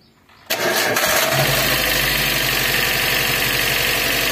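A Suzuki APV car engine, just repaired after a snapped timing belt, cranks and catches at once, then settles into a steady, loud idle close by, with no talk over it.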